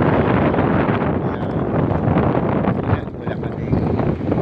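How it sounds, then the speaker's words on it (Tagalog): Strong wind at the coast in Quezon, roaring continuously and buffeting the microphone with heavy, broadband rumble. "Lakas ng hangin"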